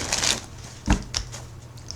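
Tarot cards are shuffled close by in a few quick riffling bursts and soft papery slaps, separated by short pauses.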